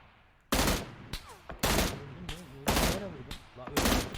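An M16 rifle fires in PUBG Lite as loud, close bursts of gunfire in several separate volleys, mixed with shouting and other game sounds.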